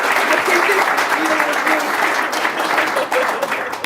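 A city council meeting audience applauds milestone recognition of public servants, with loud, sustained clapping throughout and faint voices mixed underneath.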